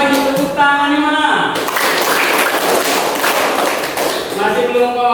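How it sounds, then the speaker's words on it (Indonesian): Students in an Indonesian classroom clap together in a dense, loud burst lasting about three seconds, with a teacher's voice speaking before and after the clapping. "Sekali lagi tepuk tangan di mana?"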